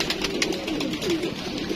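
Pigeons coo in soft, low, rounded calls, close by and continuous over a busy background hum.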